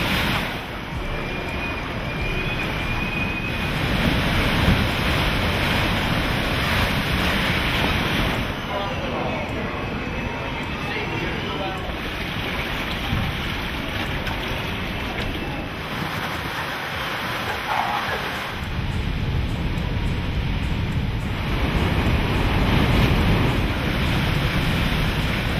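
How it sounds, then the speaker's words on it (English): Hurricane eyewall conditions with storm surge pushing seawater into a building: roaring, continuous wind buffeting the microphone over rushing, churning water, loud and unbroken, with brief lulls before the gusts surge back. "We're in the eye wall. Look at the surge coming into this building."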